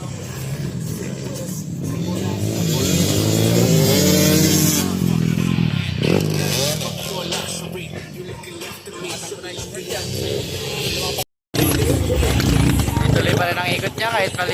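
Motocross bike engine roaring and revving while misfiring during an intermediate enduro category race in 2024, with loud sustained engine noise that swells and drops, and people talking over it.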